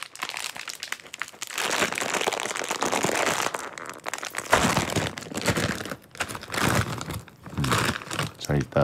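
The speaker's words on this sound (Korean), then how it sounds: "자, 일단 과자 여는 소리." A snack bag is torn open and handled, producing loud, close crinkling and rustling of plastic packaging in repeated bursts with brief pauses, under a quiet studio setting.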